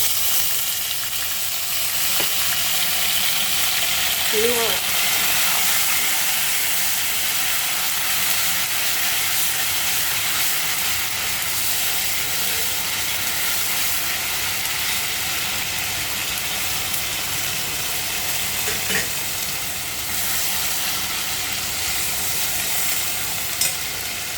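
Green masala paste frying in hot oil for a dry chicken dish, a steady dense sizzle and hiss running throughout with a few faint clinks of stirring.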